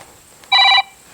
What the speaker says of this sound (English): Apologies for the phone going off